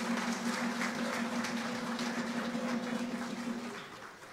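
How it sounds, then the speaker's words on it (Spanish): Applause from an audience at a Christian Family Movement gathering, greeting the new national presidents. Dense, steady clapping holds throughout with a low steady hum beneath it, then thins and fades toward the end. "Un aplauso para nuestros presidentes."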